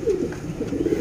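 A pair of pure Sialkoti pigeons coo repeatedly up close, a low throaty rolling sound that carries on steadily through the whole moment with no voices over it.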